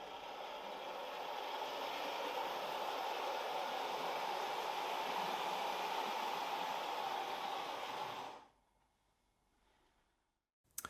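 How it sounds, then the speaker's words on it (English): A digital model railway locomotive runs on its track as a steady, fairly loud hiss-like rumble that cuts off abruptly, leaving near silence. "Then we select the address of our loco and move the throttle up, and away we go."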